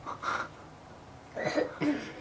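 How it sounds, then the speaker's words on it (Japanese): Two short bursts of coughing, one at the start and a pair near the end, fairly close with a quiet pause between. "咳してちゃんと"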